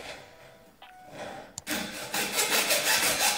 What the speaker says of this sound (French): Ça, tu peux le couper à la scie à métaux.